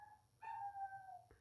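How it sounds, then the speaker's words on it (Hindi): A small neighbourhood dog nearby lets out one sustained, whining howl-like cry of about a second, fairly faint, with no talk over it. "कुत्ता भौंक रहा है साइड में, ध्यान से सुनो।"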